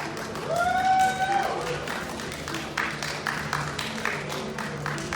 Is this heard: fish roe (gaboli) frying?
no